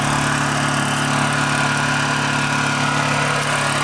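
A Honda EU2000i portable generator, cold started after two years, runs loud and steady with a constant close engine drone and no talking.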